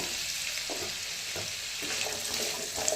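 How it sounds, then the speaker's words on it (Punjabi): Potatoes frying in hot refined oil for a Punjabi aloo chilli dish: a steady, dense sizzle fills the whole stretch, with a few faint clinks of stirring and no voices. "ਤੇਲ ਸਾਡਾ ਗਰਮ ਹੋ ਗਿਆ ਇਹਦੇ ਵਿੱਚ ਪਾ ਲੈਂਦੇ ਅਸੀਂ ਆਲੂ"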